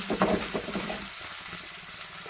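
Ingredients for veg Manchurian sizzle and fry in hot oil, a crackling burst at first that settles into a quieter steady sizzle, close up and without talk.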